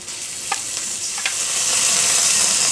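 Spice paste of ground turmeric, ginger, cumin and garam masala frying in a pan, a dense close hiss that grows steadily louder, with a couple of faint clinks of stirring.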